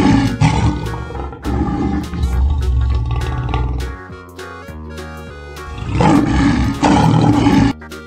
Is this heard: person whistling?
no